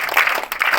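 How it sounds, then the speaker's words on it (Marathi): Schoolchildren at a village outing clap for the villagers, a brief, loud burst of many hands clapping close by. "त्या सगळ्या ग्रामस्थांना टाळ्या वाजवा"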